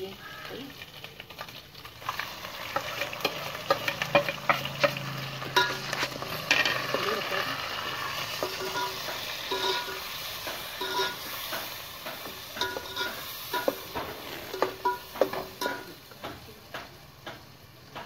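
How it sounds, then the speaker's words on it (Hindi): Ginger, garlic and spices with crushed chillies, tomato and turmeric fry in a pan on a home stove, giving soft sizzling with frequent ticking and scraping stirs, moderately close, with faint voices in the background. "जैसे हमारा अदरक लहसुन भून जाएगा तैसे हम ये मसाले डालेंगे।"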